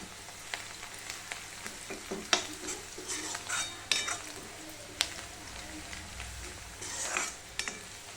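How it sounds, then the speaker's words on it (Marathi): Onion fried with green chilli, cumin and mustard seeds in a pan for leftover-chapati upma, a soft sizzle under repeated scraping and clinks of a spoon against the pan, quiet and close. "आता कांदा चांगला लालसर रंग येईपर्यंत मस्तपैकी परतून घ्यायचा"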